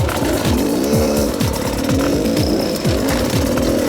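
A Beta RR300 enduro motorcycle engine revs hard on a hill climb, loud and close, with a rough two-stroke buzz that rises and falls in repeated quick blips as the rider works the throttle.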